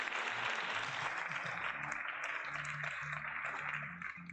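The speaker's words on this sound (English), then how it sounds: "Where's my applause?" Applause plays as a continuous hiss of many hands clapping, fairly faint, with low tonal hum and beeps underneath, tapering slightly near the end.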